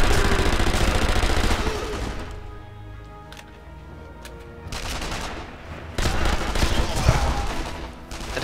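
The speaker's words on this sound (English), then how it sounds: "And again, they're both shooting at me." Enemy soldiers fire on the player in the World War II sniper game Sniper Elite V2, dense bursts of gunfire crackling loud and close, easing off in the middle before heavy shooting returns near the end.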